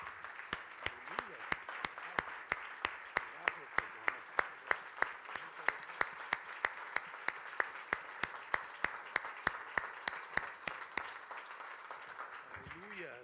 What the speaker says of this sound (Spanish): yo creo que merece un mejor aplauso